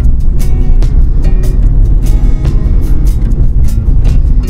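A car on the rough concrete surface of the Mumbai–Goa highway gives a loud, continuous low rumble from inside the cabin, with repeated thumps and jolts as the tyres cross uneven slab joints.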